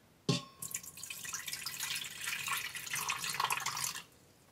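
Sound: water poured into Instant Pot pan

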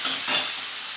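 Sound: onions frying in a pan

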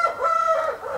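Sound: O-Shamo chickens clucking and crowing

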